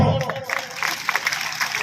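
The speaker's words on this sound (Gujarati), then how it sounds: "બેન હર્ષિતાબેનની તાળીઓ પાડો" An audience at a women's empowerment event in Radhanpur breaks into applause, with steady scattered clapping from a moderately close crowd and a brief voice at the start.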